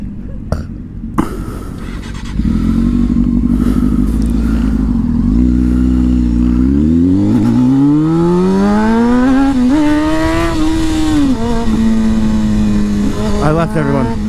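A motorcycle on a group ride idles loudly close by, then revs and pulls away with rising engine pitch that climbs and settles into steady cruising, after a few brief knocks and a voice at the start.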